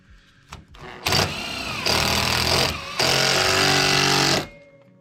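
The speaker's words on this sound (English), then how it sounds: "next we're going to put the self-tapping roof screws into the pre-drilled pilot holes" A power driver sinks self-tapping roofing screws into pre-drilled pilot holes, with three loud sustained whirring runs separated by brief pauses, close and harsh, then cutting off.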